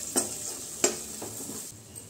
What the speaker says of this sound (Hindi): मटर को भी थोड़ा ऑयल में फ्राई कर लेंगे।